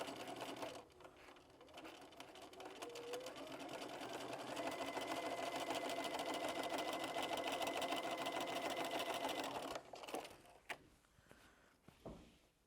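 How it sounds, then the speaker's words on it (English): A sewing machine stitches a quilt block along a pressed crease with a guide, running as a steady close mechanical whir for several seconds before stopping, followed by a few soft handling clicks. "I'm going to sew down that line that I've just pressed with my guide in the crease."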